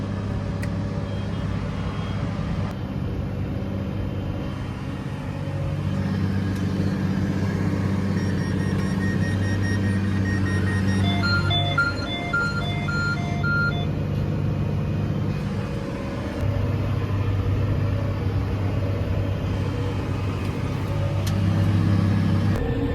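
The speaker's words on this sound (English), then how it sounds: "is that a car? Jeez, it is." A car passes along a road near a farm where silage contracting work is underway, a rising and fading engine rumble over the steady drone of farm machinery, with a brief high beeping in the middle.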